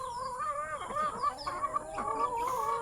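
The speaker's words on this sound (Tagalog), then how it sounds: "Ang ating mga manok." Backyard chickens cluck and chatter close by, several overlapping calls in quick succession over a soft farmyard background.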